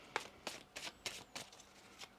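Tarot cards are shuffled by hand in a quiet room, about seven crisp riffling bursts in a fairly even rhythm, close but faint, with no talking.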